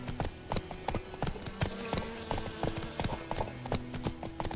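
Geralt's horse Roach in The Witcher 3, hooves clip-clopping in a brisk, steady walking rhythm on hard ground, close and clear with faint ambience behind.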